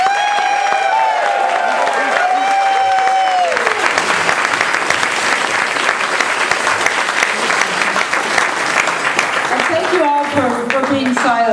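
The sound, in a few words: audience applauding, yelling and screaming for contestants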